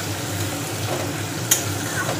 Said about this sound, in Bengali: পেঁয়াজ আর টমেটোটা একটু ভালো করে ভেজে নেব।